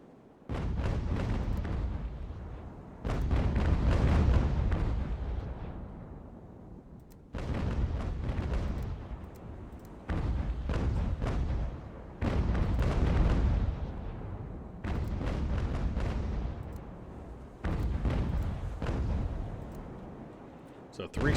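Naval cannon volleys in the video game Ultimate General: American Revolution: a run of about seven deep, rumbling booms, each rolling off over a couple of seconds, heavy and prominent with no voices.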